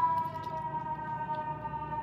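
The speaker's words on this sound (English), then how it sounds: "The siren's going by now." An emergency vehicle siren passes along a New York City street, a steady, moderately faint wail holding its pitch through the whole stretch over a low traffic rumble, with no talk.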